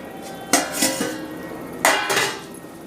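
Two bursts of metal scraping and clanking against a pan, like a spoon stirring pav bhaji masala, separated by a quieter pause.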